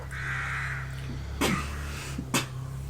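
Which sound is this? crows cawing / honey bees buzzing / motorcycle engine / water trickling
crows cawing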